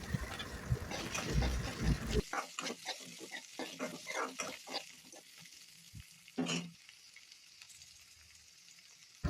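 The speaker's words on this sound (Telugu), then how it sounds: "మనం కట్ చేసి పెట్టుకున్న దొండకాయలను ఆ ప్యాన్లో వేసి వేయించాలి" Cut ivy gourd pieces hit about two tablespoons of hot oil in a pan, with a loud burst of frying noise, then scattered stirring scrapes and crackles that gradually settle into a quieter sizzle.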